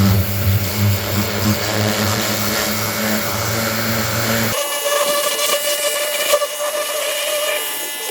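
A Ryobi 2300 PSI electric power washer runs loud and close, with a motor hum under a harsh spray. Midway the low drone drops away, leaving a bright, hissing blast from a more powerful nozzle.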